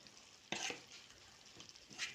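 Zucchini cooking in a pan over very low heat: a soft, low sizzle, broken by a couple of brief scraping stirs.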